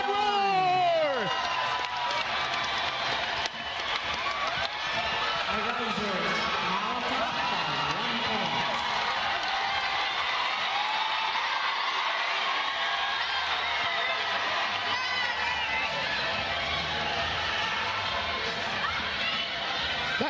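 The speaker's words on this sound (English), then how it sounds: "And listen to this crowd roar" A loud volleyball crowd at a PVL on Tour 2025 match between PLDT and Galeries roars and cheers after a long rally, a dense sustained wall of shouting, whooping and clapping that stays full throughout.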